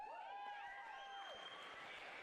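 A crowd cheers and applauds at the NCL Finals 2022, a broad, steady wash of noise with whistle-like tones rising above it, continuous for a couple of seconds.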